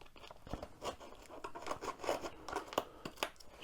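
Quiet, irregular snipping and scraping as scissors cut open a cardboard box, with crinkling rubs between the cuts, close by.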